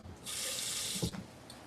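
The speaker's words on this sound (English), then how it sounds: "And a little smidge of water, which is all the way over here in the sink." Water runs from a kitchen sink tap in a steady close hiss for about a second, then cuts off with a brief clunk and a faint trailing drip.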